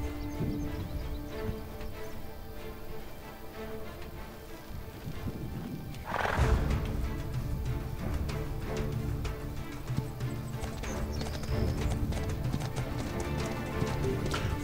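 Horse hooves clip-clop steadily in the desert of the video game Badiya, a continuous rhythmic trot over a dense, busy game soundscape, getting slightly louder about midway with a brief whinny-like burst.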